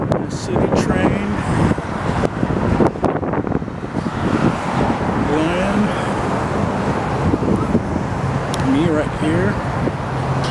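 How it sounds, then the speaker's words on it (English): Chicago city street traffic along South Michigan Avenue in winter, a continuous roadway wash with passing cars, wind buffeting the microphone and someone talking over it. "This is the view of Chicago, the traffic, the city train."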